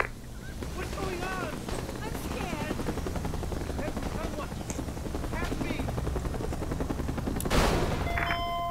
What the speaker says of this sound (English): BLAV chopper, make room for landing.